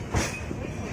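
The Ranchi Rajdhani Express, New Delhi–Ranchi train 12453, rolls past with a steady rumbling roar and a muffled rail clatter, a brief louder thump near the start.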